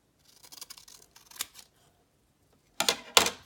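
Scissors snip through paper in short bursts, two quick closely spaced cuts near the end that are sharper and louder than the softer trimming before, with quiet gaps between.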